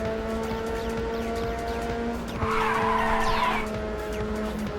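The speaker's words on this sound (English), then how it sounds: "Didn't need the drift there." Tires skid and squeal as a car drifts in the PSP racing game Ridge Racer, a loud screech rising over a steady engine drone and game music.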